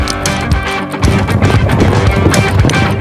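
A two-year-old thoroughbred racehorse gallops with rapid, rhythmic hoofbeats, loud and close but partly blended with dense music in a film trailer.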